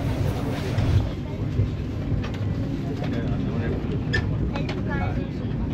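A Vande Bharat Express train runs between Kharagpur and Tatanagar, giving a steady onboard rumble and rattle throughout, with people talking over it.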